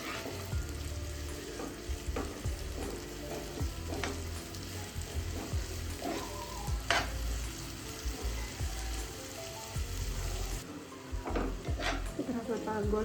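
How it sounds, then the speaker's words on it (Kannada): Onion frying in a pan for tomato egg bhurji, a soft continuous sizzle with scattered clinks and scrapes of a spoon stirring, fairly quiet and close, with no speech. "ಗೋಲ್ಡನ್ ಕಲರ್ ಬರೋದಂತ ಸ್ವಲ್ಪ ಫ್ರೈ ಮಾಡಿ"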